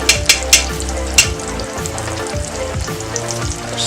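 Shell-on shrimp fry steadily in a hot pan, a close, constant sizzle with a few sharp crackling pops near the start and some faint tonal sounds in the background.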